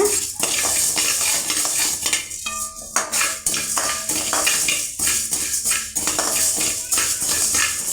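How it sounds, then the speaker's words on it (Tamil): Coriander seeds dry roast in a pan while being stirred, giving a continuous dense rattle and scraping of a utensil against the metal pan, close and fairly loud, with no talking. "கொத்தமல்லி நம்ம நல்லா வறுத்து எடுத்துக்கலாங்க."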